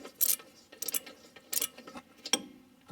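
Short bursts of quick, crisp clicking come from a hand ratchet wrench turning the rear brake caliper bolts on a 2016 Subaru CrossTrek, spaced apart by pauses and fairly faint in a quiet garage.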